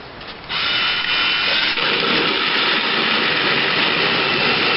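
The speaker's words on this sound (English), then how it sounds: "I'm going to take my drill" An electric drill starts up and runs continuously with a loud, steady whir as it bores into a thick, hard gourd, with no talking.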